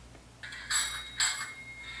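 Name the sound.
model streetcar conductor bell ringing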